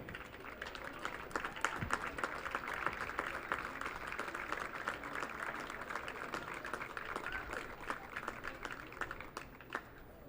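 An audience gives scattered, moderate applause for the Catawba College baseball seniors at a conference championship awards presentation, with a thin patter of clapping that continues steadily at a distance.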